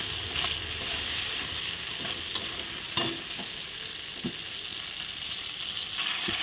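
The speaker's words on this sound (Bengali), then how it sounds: "এখন আমি মশলাটা ভালো করে ভেজে নিচ্ছি" Spice paste for a prawn malai curry fries in a pan while a spoon stirs it, giving a continuous close sizzle broken by occasional scraping knocks and clacks, with no voices.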